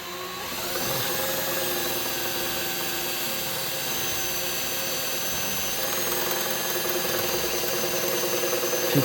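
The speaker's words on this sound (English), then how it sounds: "Keep your drill bit nice and centered" A drill bit bores steadily into a seized bolt on a mini bike motor, producing a continuous close whirring grind with a slight shift in pitch partway through and no talking.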